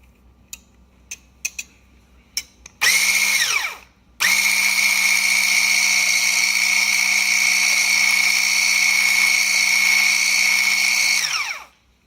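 An Allkeys immersion hand blender with its whisk attachment whisks baby food in a cup. A few light taps come first, then a loud high motor whine runs in two bursts, a short one and then a long steady run that winds down, close, with no talking.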